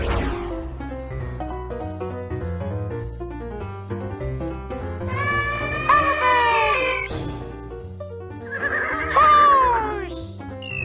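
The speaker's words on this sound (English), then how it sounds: "Horse!" A cartoon horse whinnies in a children's animal-sounds program, two rising, quavering neighs standing out over a steady, bouncy music bed.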